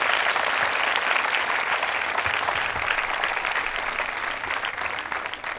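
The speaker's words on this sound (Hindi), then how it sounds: "तालियां बजाइए दिव्या जी के लिए आप" Loud, dense applause from an audience at a college quiz show in Ajmer, continuous clapping that holds strong and eases slightly near the end.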